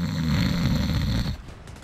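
A man imitates snoring with his voice, a loud, rough, sustained guttural rasp close to the mic for over a second, then breaking off, heard over Division 2: Warlords of New York gameplay sounds.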